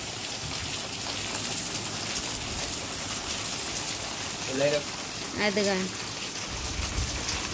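Steady rain falls and patters on surfaces, a dense, constant hiss of drops close by, while a voice briefly speaks over it near the end.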